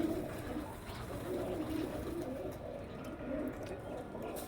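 Black Chinese pigeons of a newly bred line cooing close by in a loft, low repeated rolling coos in a steady rhythm over faint background noise.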